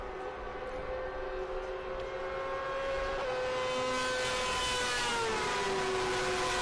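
A Can-Am prototype race car passes at speed, its engine note rising and then sweeping down in pitch over steady loud track and crowd ambience, with no talk heard.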